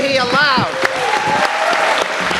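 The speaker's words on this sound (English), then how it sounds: "let's give those students a round of applause" Audience clapping at a performing arts center ribbon-cutting ceremony rises as a steady wash of applause, heard under and alongside a voice that speaks over it through much of the moment.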